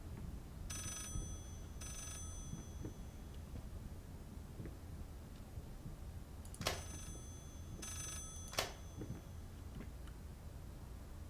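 Two pairs of brief ringing bursts from an old telephone sound quietly in the game Layers of Fear, spaced several seconds apart over a low rumbling ambience, with a couple of soft knocks between them.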